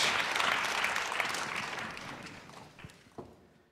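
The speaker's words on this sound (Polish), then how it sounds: "idą dyrektorzy, otrzymują ogromne brawa." Concert audience at a jubilee concert in Poland gives big applause as directors walk out; dense clapping starts loud, then gradually fades, ending with a few scattered taps and claps.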